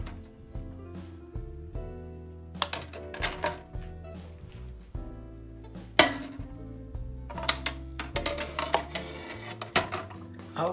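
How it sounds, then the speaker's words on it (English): Glass canning quart jars clink and knock as they are set one by one onto a metal rack inside a pressure cooker, sharp irregular clatters with pauses between, close and fairly quiet. "I'm gonna set these jars on a rack in the pressure cooker"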